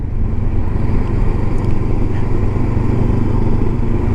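A Honda CB500X motorbike engine drones steadily nearby at a constant low rumble while riding along a country lane, with faint wind noise and no talking.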